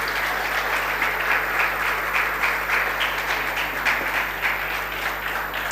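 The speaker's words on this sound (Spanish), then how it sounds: "dele el aplauso al Señor" A church congregation applauds during a Sunday service, with sustained, even clapping that fills the room over a low electrical hum and no voices on top.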